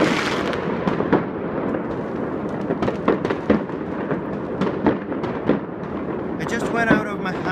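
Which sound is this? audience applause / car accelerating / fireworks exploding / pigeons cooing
fireworks exploding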